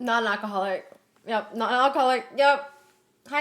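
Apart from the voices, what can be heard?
None of the usual background noises is heard.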